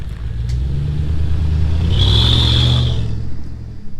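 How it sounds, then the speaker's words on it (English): A truck fitted with turbo exhaust whistles drives along: steady low engine rumble with a rising, wavering high-pitched whistle that swells for about a second mid-drive, then fades under the road noise. "Too many exhaust whistles."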